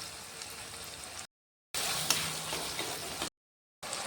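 Ginger paste frying in a pan of spiced oil for methi chicken gives a steady, moderately loud hiss and sizzle. The sound comes in two stretches separated by brief silent cuts, with no talking.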